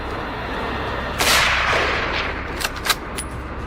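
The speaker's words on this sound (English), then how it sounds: "With the crosshairs steady, the shots rang out." Rifle shots fired at wild boar during a hunt under trees: one sharp crack with a lingering echo, followed by two fainter, quicker reports, set against a steady outdoor hiss.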